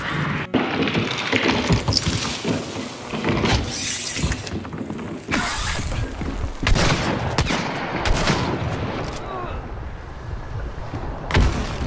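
Video game gunfire in a bayou setting, repeated loud shots and bursts scattered irregularly across the stretch, some sharp cracks and thuds, with a faint voice occasionally underneath.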